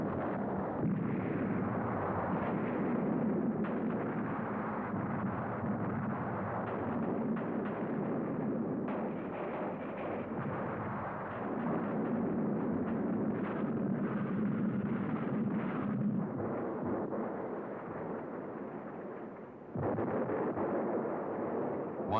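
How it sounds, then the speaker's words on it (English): Artillery guns firing shells in a World War I bombardment, a dense continuous rumble of overlapping blasts that persists for the whole stretch, muffled and heavy, with no voices. "900 guns, fired for 100 hours on an 8-mile front."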